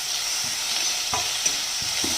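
Chopped onion, ginger, garlic and green chili frying in hot oil, a constant bright sizzle with a few soft thuds and scrapes as the mixture is stirred, close by and with no voice.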